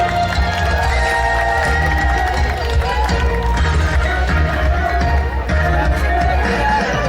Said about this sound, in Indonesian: sekali lagi berikan tepuk tangan yang paling meriah pada sore hari ini